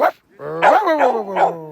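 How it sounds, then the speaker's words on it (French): A reindeer herding dog in Lapland gives a sharp yip, then a run of close, loud whining barks with a rising and falling pitch. "Il est beau ce chien."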